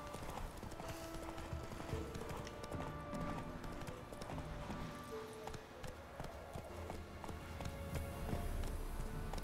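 Galloping horse hooves from The Witcher 3: Wild Hunt, a steady rapid clip-clop running throughout amid game music and ambient effects, with an occasional whinny and a voice faintly present.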